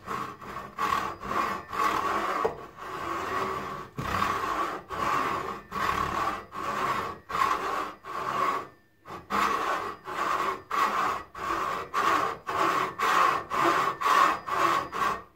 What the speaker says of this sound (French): Et la scie, vous la faites glisser tout le temps.